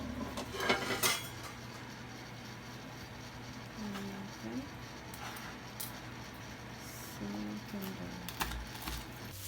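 A knife taps and scrapes on a cutting board while pork is sliced, with irregular, fairly quiet knocks and a few clinks of kitchenware over a faint background hum.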